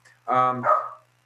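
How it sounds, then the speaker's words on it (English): A dog barks once, a short loud bark with a whimpering tail, close by in a quiet indoor room. "sorry about my dog barking in the background"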